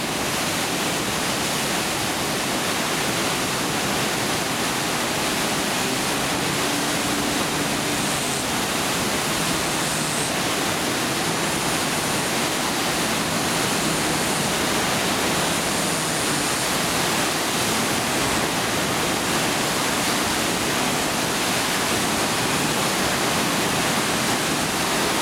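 Water churned and pushed around by hand, producing a continuous, dense rushing and sloshing wash that stays loud and even throughout, like turbulent flowing water, with no voices.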